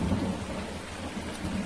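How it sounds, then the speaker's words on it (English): Rain and thunder in the video game Farming Simulator, a steady hiss of rainfall under a low, rolling rumble of thunder, moderately quiet and with no voices. "the rain has really ruined my plans for today."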